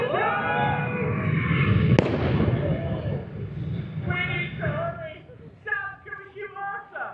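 A single sharp cannon blast cracks out at Warwick Castle, then a rumbling decay; people are talking before and after the shot.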